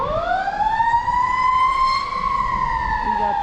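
An emergency vehicle siren wails loudly past during a blizzard, one long rising and slowly falling tone over a rumbling engine and background noise.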